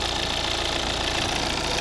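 The newer 2.0 D3 diesel engine of a 2015 Volvo V70 runs at a steady idle, a close, even, slightly knocking clatter with constant vibration and no talk.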